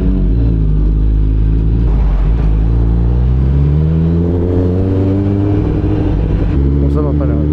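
A Kawasaki ZX6R motorcycle cruising on an expressway, its engine droning loud and steady with shifting pitch and continuous wind rumble throughout.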